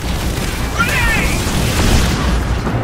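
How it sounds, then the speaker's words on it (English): A grenade detonates in the shooter game Crysis, a sustained low boom with rumbling, crackling debris that fills the whole stretch at steady loudness, with faint voices beneath. "Grenade!"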